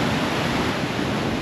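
Strong waves churn against a rocky shore at Kingston SE, a dense, continuous roaring wash heard close and loud for a brief moment, with no talking.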